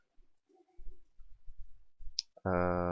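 A computer mouse clicking while someone works in a website admin panel, a few soft close clicks in an irregular series, then a loud sustained tonal beep cuts in at the end.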